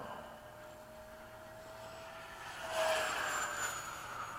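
A Freewing 80mm MiG-21 RC jet flying at half throttle gives a steady, moderately faint whine and rush of air that swells louder as it passes near, with no speech over it.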